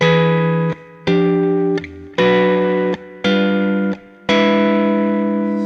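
Electric guitar with effects plays a short blues chord fill: four strummed chords with brief gaps, loud and ringing with a slightly distorted tone.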